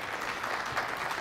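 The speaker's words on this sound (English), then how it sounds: "And the crowd gives him a deserved round of applause." A crowd at a pool match in the 2019 US Open Pool Championship quarterfinal breaks into a brief round of applause, a dense wash of clapping at moderate distance.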